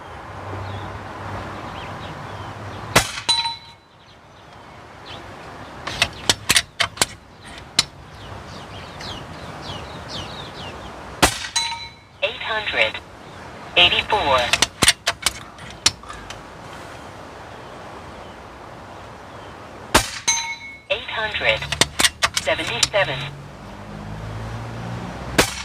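A RAW HM1000X LRT PCP air rifle in 5.5 mm is fired, giving sharp, close cracks spread across the span, with quieter clicks and metallic handling of the loading action between shots.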